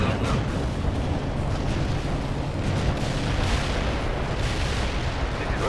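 Artillery fire in the World in Conflict war game comes as dense, continuous rumbling booms and bursts, a loud layered barrage with no pauses.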